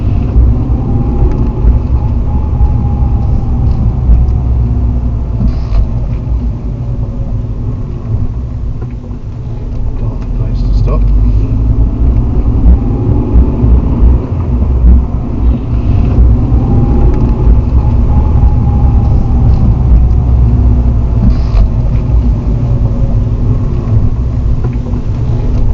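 A car drives along, captured by a Pelsee P1 Duo 4K dash cam, giving a loud, steady interior rumble of engine and road noise with faint engine whines rising and falling over the long stretch.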